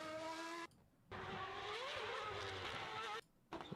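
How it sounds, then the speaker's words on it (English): An Audi 90 race car engine screams at high revs, cutting out abruptly twice as it passes, loud and sharp with brief gaps of near silence. "That's probably one of the better race cars of all time, the Audi 90."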